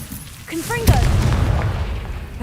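Confringo spell blast in Hogwarts Legacy on PS5: a single sharp boom just before the one-second mark, preceded by brief magical chirps and followed by a sustained rumbling roar.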